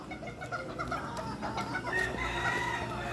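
Chickens on a farm cluck and crow at a moderate distance, with several overlapping calls and a crow standing out among the busy clucking.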